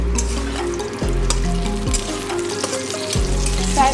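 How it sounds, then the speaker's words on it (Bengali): Pointed gourd fries in oil in a pan, a steady close sizzle with occasional stirring and scraping of the pieces, and no talk. "এদিকে পটলটা আমার ভাজা হয়ে গেছে। এবারে একটু উল্টে দেব।"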